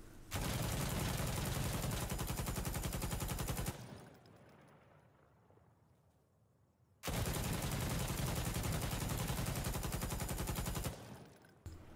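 A PKM machine gun fitted with a compensator fires two long sustained automatic bursts in Insurgency Sandstorm, loud and dense. A few seconds of fading echo separate the bursts.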